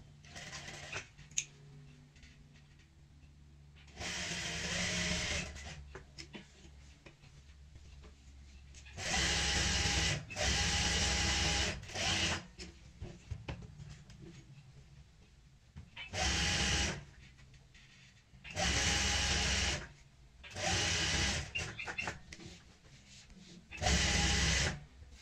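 A sewing machine stitches a chair cushion from the inside, running in several separate bursts of a few seconds each with quiet pauses between them, close and fairly loud.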